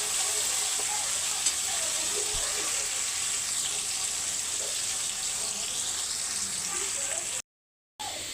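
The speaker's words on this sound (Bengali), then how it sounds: "এইটা আমি এখন হালকা করে ফ্রাই করে নেবো তেলাতে" Cashews, onion and dried chili frying lightly in oil give a steady close sizzle with faint stirring, broken by a short silent gap near the end.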